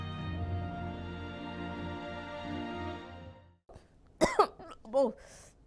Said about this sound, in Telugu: అమ్మో, దగ్గులేస్తున్నది ఏందోల్లా